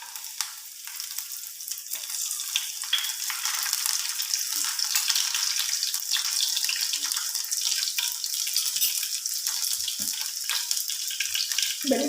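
Garlic crackles in hot oil with a dense, continuous sizzle, loud and close, with a few faint clinks and scrapes near the end.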